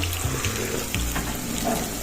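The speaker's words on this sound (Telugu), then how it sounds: "మటన్ కొన్ని వేడి నీళ్ళు పోసుకొని" Mutton being washed with hot water in a home kitchen, a steady splashing flow of water running close by for the whole stretch with no talk.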